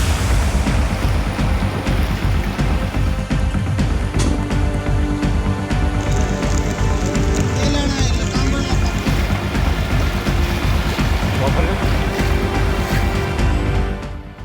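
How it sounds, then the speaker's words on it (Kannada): Dense, steady roar of heavy monsoon rainfall in Dandeli, coastal Karnataka, pouring down continuously, loud and close throughout, with no voices. "ದಾಂಡೇಲಿಯಲ್ಲೂ ನಿರಂತರ ಮಳೆಯಾಗ್ತಿದ್ದು"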